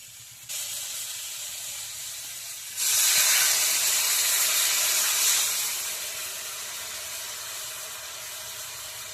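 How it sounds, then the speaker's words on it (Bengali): Tamarind water poured into a pan of cooking prawn curry: a steady hiss, then a sudden louder sizzle and steam burst that slowly fades back to a softer hiss, with no talk. "তেঁতুলগুলা জল দিয়ে দেবে এবার"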